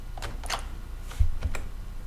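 Keys clatter on a computer keyboard in a short run of light taps with a couple of firmer strokes, close and quiet with no talking.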